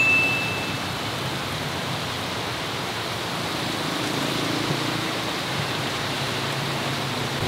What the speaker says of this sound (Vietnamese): Bọn mình vừa mới ăn xong là trời mưa lớn rồi các bạn ạ.